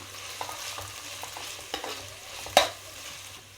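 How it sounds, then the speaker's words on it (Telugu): Ginger garlic paste fries in a pan, giving a continuous low sizzle with occasional spatula scrapes and one sharp clack near the end, close by. "ఈ అల్లం వెల్లుల్లిపాయ పేస్ట్ పచ్చివాసన పోయేంత వరకు వేగనిద్దాము"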